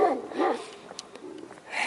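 Dogs barking and yelping at a food place, a couple of close, strained yaps at the start followed by lighter whines and clicks in a noisy space.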